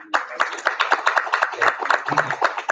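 Audience applause for a committee at a business seminar: a brisk, close patter of hand claps that runs throughout, with some voices mixed in.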